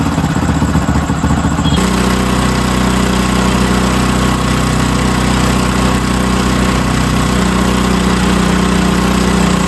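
Hero HF Deluxe motorcycle engine running steadily close by during carburetor fuel tuning, a dense continuous idle-to-rev drone that lifts slightly after the first two seconds and holds loud with no talk.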